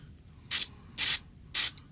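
Gun care solution sprayed onto a grimy, dirty firearm in three short, crisp aerosol bursts, evenly spaced and close to the mic, with quiet gaps between them.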